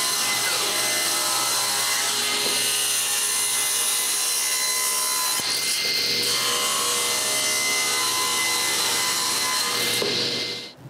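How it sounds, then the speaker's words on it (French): A table saw with its blade tilted to 45 degrees cuts the four corners off a wooden turning blank, giving a steady, loud whine and rasp that runs the full length with brief shifts as the wood is fed through, and no voices. "je penche la lame massée à 45 degrés et je coupe les quatre coins."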